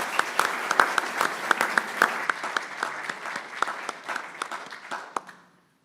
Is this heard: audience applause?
yes